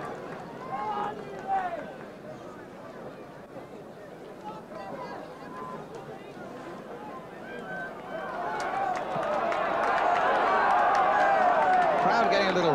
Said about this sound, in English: Crowd getting a little restless